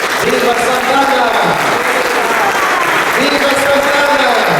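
A church congregation at a Mass of Azorean-heritage culture in the Mirim neighbourhood of Imbituba gives a loud, dense round of applause, with voices mixed into the steady clapping throughout.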